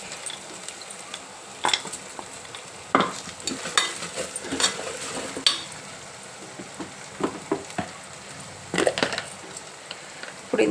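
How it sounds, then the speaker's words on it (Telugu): Ground masala paste frying in a little oil for a goat trotter soup, a low sizzle under frequent spoon scrapes and clinks against the pan, some sharp and loud. "అందుకు కొంచెం నూనెలో వేయించుకుంటే"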